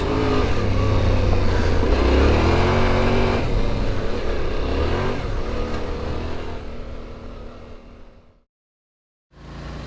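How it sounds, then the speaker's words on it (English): A Yamaha Ténéré 700 engine drones and revs steadily on valley trails, loud and close, easing off and fading to brief silence before the engine sound returns. "Back on the bike, and I rode these brilliant trails up and down the valley"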